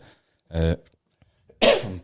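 Two short, rough bursts of a cough close to the microphone, the second louder and harsher, separated by a brief quiet gap.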